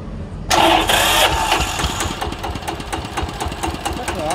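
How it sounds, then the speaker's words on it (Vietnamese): A Kubota K7 tiller's engine fires up on its electric starter, a sudden loud catch after a brief quiet moment, then settles into a close, steady rhythmic chugging idle. "Đề nhẹ lại cái cho bà con nghe nữa nha"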